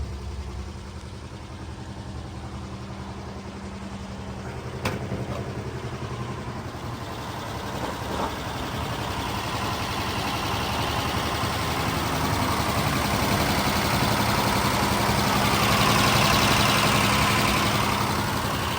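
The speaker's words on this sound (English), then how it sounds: "You just crank it, you pull on this, and it does fire up." A 1962 Mercedes Unimog 404 diesel engine cranks and settles into a steady, rumbling idle, heard outdoors at moderate distance with a broad mechanical drone that slowly grows a little louder and fuller.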